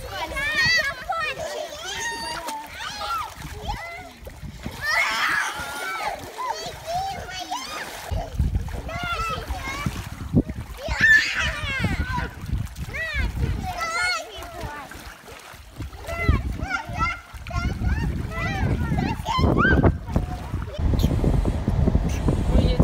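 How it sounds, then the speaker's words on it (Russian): Children run and splash in water, with lively squeals and shouts, while adults talk nearby over wind and a steady wash of outdoor water noise. "И дети еще в воде носятся."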